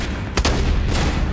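A shotgun booms twice in Borderlands 2 co-op combat with Krieg and Axton. Two loud close blasts come about half a second apart and ring out over constant game noise.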